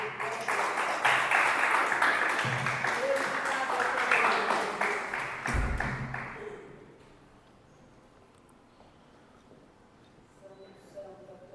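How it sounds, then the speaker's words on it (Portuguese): A church congregation at a Portuguese-language worship service claps together in a dense burst of applause lasting several seconds, then it fades into quieter room sound. "Uma salva de palmas ao Senhor"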